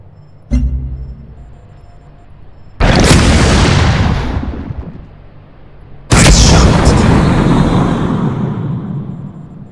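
Starship weapons firing in the space strategy game Sid Meier's Starships: a sharp click, then two loud, booming blasts a few seconds apart, each bursting at full strength and roaring as it slowly decays.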